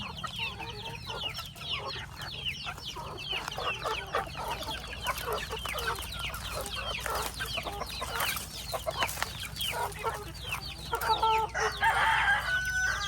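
Native chickens and roosters on a farm, with roosters crowing repeatedly over steady clucking from a flock, the calls dense and close with a continuous low hum underneath.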